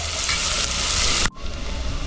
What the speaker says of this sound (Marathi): आता कांदा घालतो, तो पण परतून घेतो कांदा.